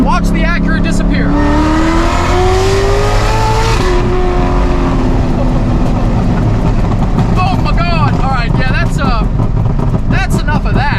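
Chevrolet C7 ZR1 with roughly 1,000 horsepower pulls hard, its engine note climbing steadily and loud from inside the cabin, then easing off into road and wind rumble while an occupant talks excitedly over it.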